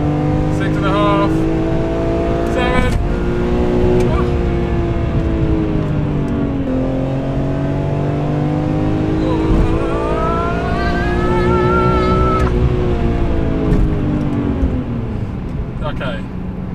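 A BMW M3 accelerates hard from inside the cabin, its engine note climbing in pitch through repeated rising revs and gear changes, loud and close, with occasional voices over the engine.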